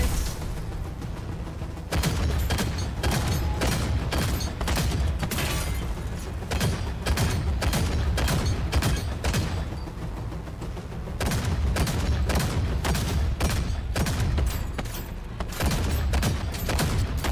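Heavy video-game battle with tanks firing, a dense run of booming shots and bursts that continues without pause and stays loud and close throughout.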